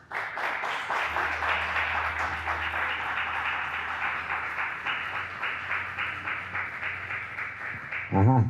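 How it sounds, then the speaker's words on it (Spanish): An audience at a tribute to teacher Luis Cipriano Rodríguez claps for his brother Robert Rodríguez in a steady, rhythmic round over a low hum, ending as a voice briefly begins to speak. "Por favor, denle un aplauso."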